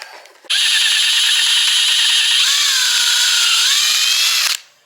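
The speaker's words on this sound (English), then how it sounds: "you got to drill out your Christmas tree" A power drill runs continuously for about four seconds, boring into a Christmas tree stand with a steady high whine that shifts slightly in pitch as it works, close and loud, starting and stopping abruptly.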